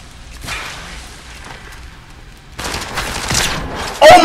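Gunfire rings out in a video game, with scattered whip-like shots followed by denser rapid bursts that grow louder toward the end.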